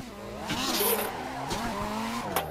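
Car tires squealing through a handbrake drift in Assetto Corsa, a tandem drifting session, with the engine revving and rising and falling along with the screech. The sound is loud and steady and runs across the whole clip.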